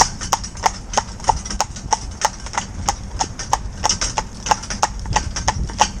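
An older cob mare's hooves clip-clop in a steady, even walking rhythm, loud and close, each strike sharp and distinct over a low background rumble.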